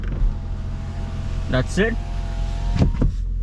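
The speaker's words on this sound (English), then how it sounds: "Let me just roll down the windows and clear out the" Power windows on a Hyundai Ioniq Hybrid roll down inside the car, a steady electric motor whir running under a quiet cabin hum, with a brief spoken remark over it.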